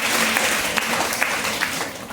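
A congregation at a Sunday church sermon claps hard for a sister, sustained crowd applause rolling on with a few sharper peaks, no voices over it.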